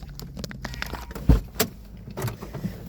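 Someone climbs out of a car: a few soft clicks and shuffles, a firm door thunk and a short rattle of keys, close by with faint background noise and no talk.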